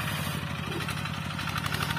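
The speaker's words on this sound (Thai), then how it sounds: "กับการทำงานของรถไถนักขับไทยประดิษฐ์ของช่างเนตรฮะ" A Thai homemade ride-on tractor's small engine running steadily in a garden, with an even, fast mechanical chug and a faint rattle at moderate distance.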